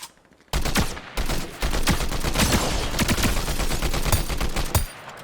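Combat assault rifle fire in Fortnite, a dense rapid burst of loud automatic shots lasting several seconds, starting abruptly after a quiet moment and cutting off near the end.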